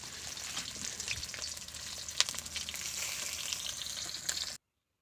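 Potato and turnip curry cooks in a pot over a clay stove, a continuous close sizzle with faint crackles and scrapes running steadily before cutting off abruptly near the end.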